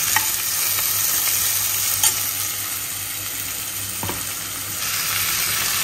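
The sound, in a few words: vegetables frying in a pan for shortcut biryani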